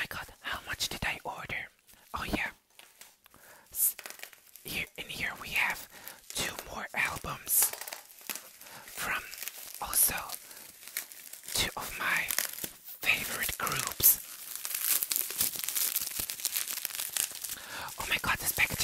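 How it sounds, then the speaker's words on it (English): Plastic wrapping being crinkled and torn off K-pop album packages in a close, quiet ASMR setting, with irregular rustling bursts throughout and soft whispered talk over them. "this packaging is so hard to get off"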